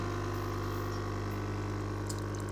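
A coffee machine brews and pours coffee, giving a steady, loud pump hum with a continuous liquid stream and no speech.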